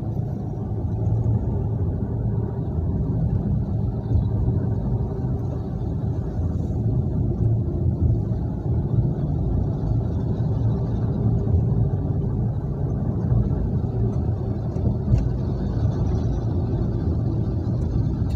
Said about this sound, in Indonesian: Oh, truknya ya kenceng.